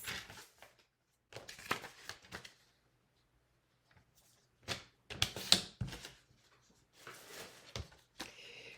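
Scissors trim a piece of cardstock for a card front in several short bursts of close, crisp snipping and paper rustling, separated by quiet pauses.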